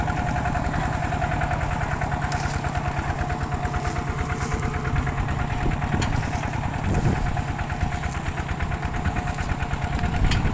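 A Kubota RT100 single-cylinder diesel engine on a walking tractor pulling a disc plough chugs steadily in a fast, even rhythm, loud and close throughout with no talking.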